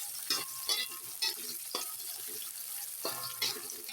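Sliced red bird's eye chilies and red chilies sizzle in a frying pan, with several sharp scraping stirs of a spatula spaced across a quiet, steady fry.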